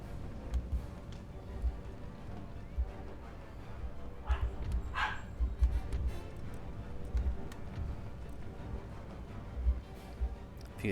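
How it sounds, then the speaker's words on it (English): Two dogs yapping and barking at each other in a back room, heard faintly in the background as short, irregular yips and barks spread over a steady low rumble, with no one talking. "my dogs are yapping at each other"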